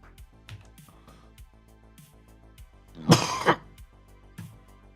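A person clears their throat and coughs a couple of times in quick succession, close and fairly loud, with soft background sounds and faint clicks around it.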